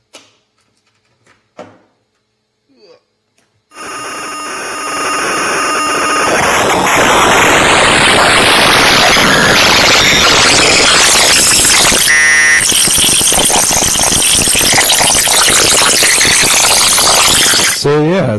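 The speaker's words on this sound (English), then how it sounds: "So this is what Jarmageddon sounds like." Jarmageddon noise synthesizer module housed in a mason jar bursts into loud, dense, harsh noise with squealing tones and rising whines, sustained for about fourteen seconds after a few faint knocks, with a brief dropout midway.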